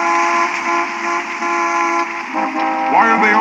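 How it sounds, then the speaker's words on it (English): Car horns honk in traffic, a sustained blaring tone with other horns overlapping and shifting toward the end, fairly loud against the street. "Why are they all honking?"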